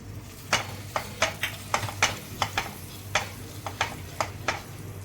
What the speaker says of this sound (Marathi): त्याच्यामध्ये आपण 2 ते 3 छोटे चमचे तेल टाकूया, आणि हे जे मी बटर सांगितलं होतं त्याचा मी एवढा भाग त्याच्यामध्ये टाकते